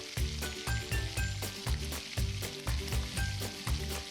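Vegetables stir-frying in oil on a stovetop, a loud, steady sizzle with rhythmic bursts of scraping and tossing recurring about every half second, close and continuous with no voices.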